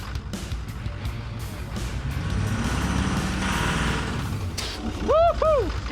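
A Ford Powerstroke diesel truck engine with a failing motor revs up, its rising roar swelling over a steady idle while voices whoop briefly near the end.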